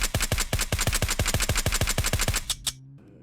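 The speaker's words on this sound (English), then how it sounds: "Shotguns are so stupid loud." Rapid gunfire in the zombie survival game SurrounDead, about twenty loud, evenly spaced sharp blasts in quick succession, ending abruptly and followed by a faint mechanical tone.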